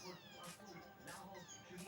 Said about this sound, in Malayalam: പൂച്ച വെറുതെ കളിക്കുക